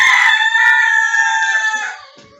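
An Aseel rooster on a farm crows once, loud and close, in a single long call that fades out at the end.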